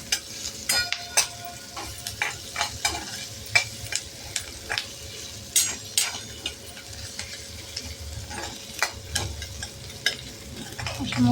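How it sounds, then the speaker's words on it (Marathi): Onion sautéing in oil in a pan until pink, a steady close sizzle and frying hiss broken by repeated scraping clicks of a spoon stirring, with no talk. "अगदी गुलाबी रंग येईपर्यंत आपण छान कांदा परतून घ्यायचा."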